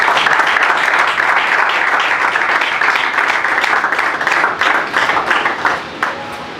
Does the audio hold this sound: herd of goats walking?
no